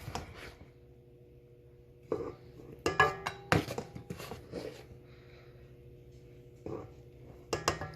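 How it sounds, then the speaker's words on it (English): Flour is scooped into a bowl while making homemade sandwich bread dough, with scattered clinks and clanks of a metal utensil against the bowl in short bursts, close and moderately quiet. "I'm going to go ahead and scoop majority of the flour"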